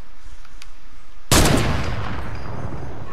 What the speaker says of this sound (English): Oh, shoot the wall, Deco!